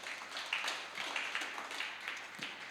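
A church congregation breaks into brief, steady applause, a dense crackle of many hands clapping at moderate volume with no voices above it.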